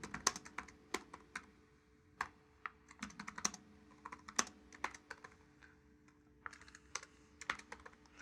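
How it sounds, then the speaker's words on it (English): Close keyboard typing: irregular bursts of quiet key clicks and a few sharper taps over faint room hum, with no speech. "let me try typing some queries"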